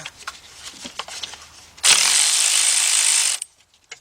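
A ratchet wrench loosens a 13mm nut on a Chrysler Sebring engine during timing cover work, giving a loud, fast continuous clicking burst of about one and a half seconds after scattered quieter mechanical clinks.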